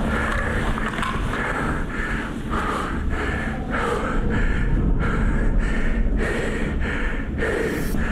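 Heavy, labored breathing after exertion during an airsoft CQB game, rhythmic gasping inhales and exhales repeating steadily over a constant rumbling background, close and loud.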